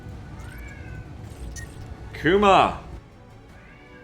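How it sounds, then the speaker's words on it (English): A house cat lets out one loud, drawn-out meow close by, rising and falling, while someone talks over a quiet room before and after. "My cat is going off."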